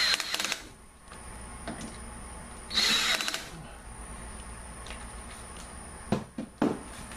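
Cordless power drill tightening metal hose clamps on a surfboard bike rack, with torque set to 20; a short buzzing run near the start, a longer burst around the middle, then brief clicking bursts toward the end, all close and alone.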